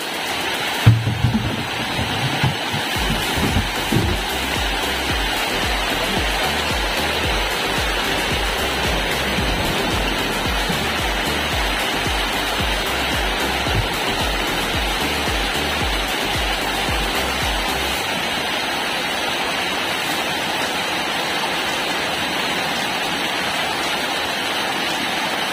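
Spring water pours steadily on a small island, a dense continuous rushing splash heard up close and fairly loud, unbroken for the whole stretch.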